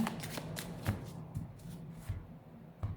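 Tarot cards are shuffled for a monthly fortune reading, a soft riffling and sliding of cards with a few light taps, quiet and close over about three seconds.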